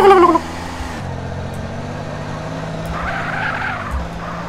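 A car skids and drives in GTA San Andreas: a loud tire squeal at the start gives way to a steady engine drone, with a second squeal swelling briefly later on. Nobody speaks.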